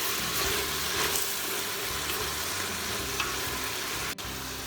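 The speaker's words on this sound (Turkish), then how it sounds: "Ara ara karıştırarak ve arkadaşlar fasulyelerimizi kavuruyoruz." Fresh green beans sauté in olive oil in a pan, giving a continuous soft sizzle and crackle with occasional stirring scrapes, fairly quiet and steady with no talking.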